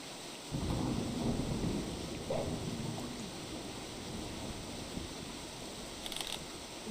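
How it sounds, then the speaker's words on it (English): Thunderstorm in the video game Wild Terra 2: a steady rumble of rain and rolling thunder fills the scene continuously, loud and close, with no voices. "The game storms a lot."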